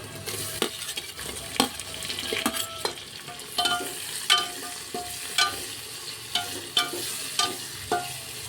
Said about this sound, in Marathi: आता आपण याच्यामध्ये सोडू टमाटर।